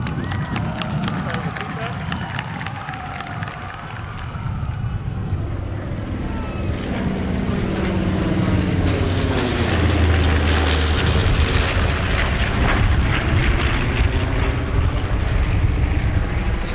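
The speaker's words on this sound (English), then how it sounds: "Straight overhead, that's a North American Aviation B-25 PBJ Mitchell bomber." A North American Aviation B-25 PBJ Mitchell bomber passes overhead at an Armed Forces Day parade in Torrance, California. The propeller drone rises and swells into a loud sustained roar, and a voice talks over it.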